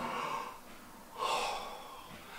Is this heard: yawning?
yes